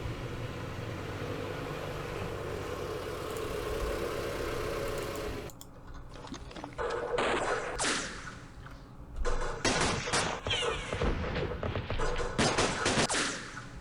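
Gunfire crackles in sharp, irregular bursts in the video game Campaign Series Middle East, set around Rebel Ridge in Yemen, following a steady engine-like hum that cuts off partway through.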